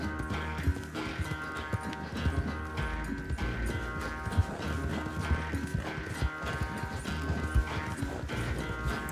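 Horse galloping in the Red Dead Redemption 2 video game, rapid rhythmic hoofbeats pounding under a steady musical score, with the gallop continuing at a fairly even pace.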